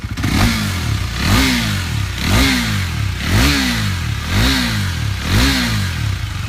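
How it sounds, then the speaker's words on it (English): A 2017 KTM 390 Duke motorcycle engine running close by, rising and falling in a steady rhythm about once a second, like repeated throttle blips over a rough idle, with no talking. "You just do that and the bike starts on its own."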